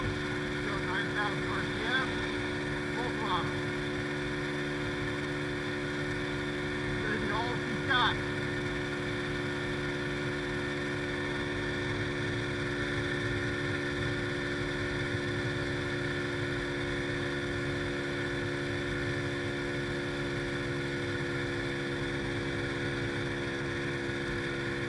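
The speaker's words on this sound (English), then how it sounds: "You can see the speed has dropped, and you can hear the change in the engine sound." A Boom Vader 125cc motorcycle engine holds a steady, loud high-RPM drone at top speed, with wind rush underneath and a few faint, brief voices early on.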